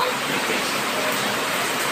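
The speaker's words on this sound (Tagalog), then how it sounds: "At maulan pa, no? Ba't hindi masyadong malakas yung ulan?" Steady rain falls lightly and evenly, a soft continuous hiss with no distinct drops or breaks and no other sounds standing out.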